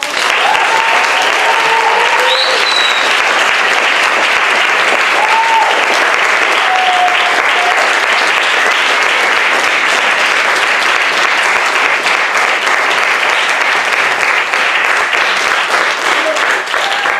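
Audience applauding readers called up to the stage at a story-sharing event, dense sustained clapping filling the room steadily for the whole stretch, with a few faint voices and whistles over it.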